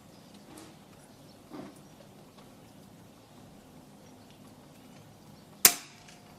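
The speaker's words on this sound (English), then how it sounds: "that's a very sweet shot" Weihrauch HW97 air rifle with a .22 conversion fires one sharp, abrupt shot near the end, standing out against a quiet outdoor background with a couple of faint soft knocks before it.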